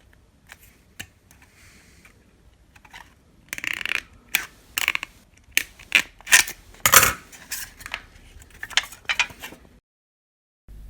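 Scissors cutting notch lines into soda can aluminum, a series of sharp, close snips and crinkles in irregular bursts with quiet gaps between them.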